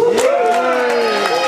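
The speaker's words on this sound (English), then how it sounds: "let's have a big cheer just for Glastonbury itself for being the place it is" A festival crowd at Glastonbury lets out a short burst of cheering and whooping, loud and close, with raised voices.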